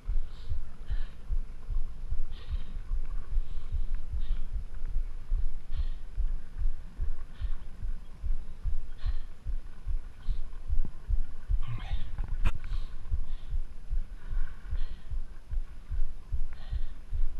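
A boat engine idles on the water, throbbing in a steady low, rapid pulse that carries on without a break, with faint wind and clatter mixed in.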